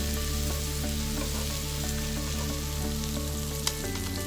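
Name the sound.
quesadilla sizzling in a pan after being flipped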